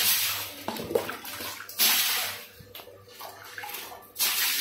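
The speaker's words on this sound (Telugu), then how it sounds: "వాటర్ పోస్తే ఎంత నీట్ గా వెళ్తుందో ఇలా వెళ్ళిపోతది అన్నమాట" Water poured and splashing across a floor during cleaning of a house, in several loud rushing surges with quieter trickling gaps between, close by.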